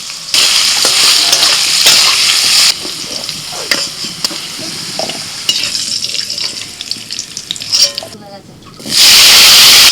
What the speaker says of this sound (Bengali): আলুটা তো ভাজা হয়ে গেল